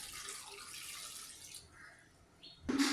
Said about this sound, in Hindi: अब मैं इसमें 1 गिलास पानी डालती हूँ।